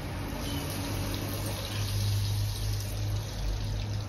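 Residual water dribbling out of a drained heating pipe into a collapsible container, a steady low trickle and splash with a faint pump-like hum, continuous throughout with no talk.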